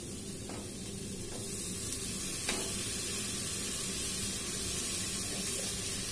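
Ginger garlic paste hits a hot pan in a home kitchen, giving a steady, even sizzle and hiss that runs unbroken and fairly loud, with a few faint clinks near the start.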